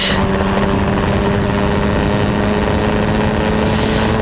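Historic Formula Ford racing cars at Silverstone running through Chapel onto the Hangar Straight: a loud, sustained engine drone at high revs, steady throughout, with no speech.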